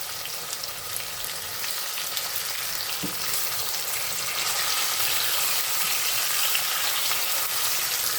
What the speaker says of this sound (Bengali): মাংসগুলা আমি পানি না দিয়ে এইভাবে ভাজা ভাজা করে নেব